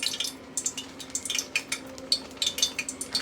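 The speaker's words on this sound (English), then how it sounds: "You guys hear that popping? That sizzling that's that water in there." Light, irregular crackles and pops over a low steady hiss of water sizzling in a frying pan with vegan mock chicken, fairly close and without voices.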